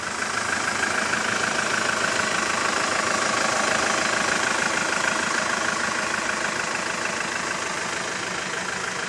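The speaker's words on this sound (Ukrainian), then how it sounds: "Робота нового мотору." The newly fitted engine of a 2007 Hyundai H-1 eight-seat passenger van runs at a steady idle, a close, even rumble with a fine rapid knock that holds unchanged throughout, with no voices.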